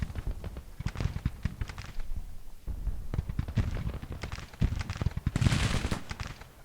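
Scattered volleys of distant gunfire crackle and pop through a Civil War battle in the strategy game Grand Tactician: The Civil War at Aquia Harbour, uneven bursts with muffled low thuds, no voices.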